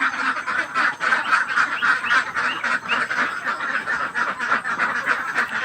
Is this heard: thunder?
no